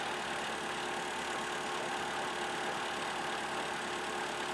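A Toyota Venza engine idles with a steady, rough, uneven rumble from an unresolved fault, continuous and fairly close, with no talking.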